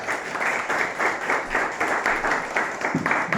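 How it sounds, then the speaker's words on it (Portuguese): Audience applause for visiting pastors during a church sermon, a steady wash of many hands clapping in a rhythmic, pulsing pattern at moderate loudness with no talking over it. "Gostaria de uma salva de palmas para eles."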